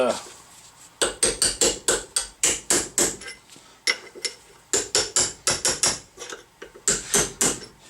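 Hammer and chisel striking metal on a truck spindle, bursts of rapid sharp metallic blows in quick series with short pauses between, loud and close, no talk.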